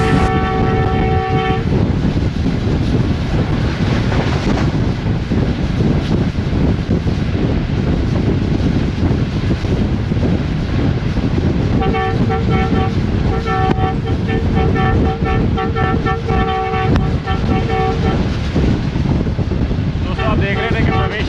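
Pak Business Express passenger train cruising at about 113 km/h between Bahawalpur and Lahore, hauled by a ZCU30 Chinese-built locomotive; loud steady wheel and rail roar throughout, with sustained horn blasts near the start and again in a long sequence midway.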